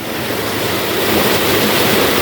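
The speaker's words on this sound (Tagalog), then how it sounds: "Grabe lakas ng tubig ito." A strong flow of water rushes from a natural spring in a dense, loud, continuous roar that holds steady from start to finish, with no talking.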